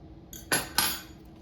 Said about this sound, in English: Let me cut one to show you the inside.